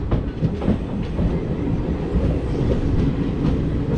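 The West Coast Express train running steadily after pulling out of Salem Junction at night, a continuous loud rumble with rhythmic clickety-clack of wheels over rail joints throughout.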